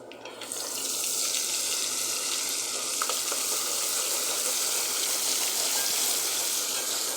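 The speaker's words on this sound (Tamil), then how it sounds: "அதுக்கப்புறம் இஞ்சி பூண்டை போடுறேன்" Ginger and garlic fry in hot oil in a pan, a loud, steady close sizzle that swells in after a quiet start and holds evenly, with faint stirring and no voices.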